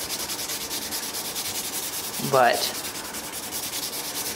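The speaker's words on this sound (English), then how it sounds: "I still got a little bit of sanding to do on the back of that headstock" Rhythmic, rasping strokes of sandpaper rub against the wooden back of a guitar headstock, steady and close, with a brief spoken word in the middle.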